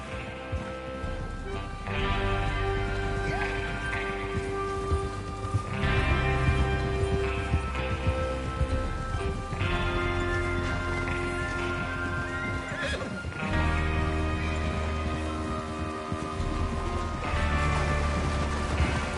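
Horses in the video game Red Dead Redemption 2 neigh and whinny repeatedly while hooves clatter steadily throughout, layered over a dense, continuous rumbling background.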